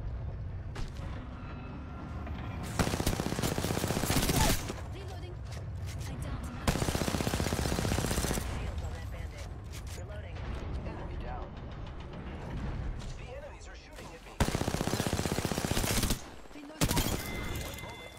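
Repeated bursts of automatic and single-shot gunfire in the Apex Legends battle royale, loud and close, with rapid volleys alternating with brief lulls and game effects underneath, while a player talks over the action.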